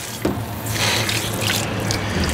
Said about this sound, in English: So I'm gonna turn up the water